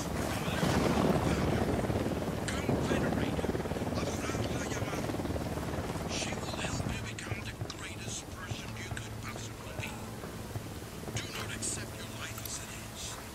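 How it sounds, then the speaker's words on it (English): Helicopter flying nearby in the tactical shooter Ghost Recon Wildlands, a steady low rotor rumble and wind-like roar running throughout, loud at first and easing slightly later, with soft game voices talking over it. "Don't need that chopper."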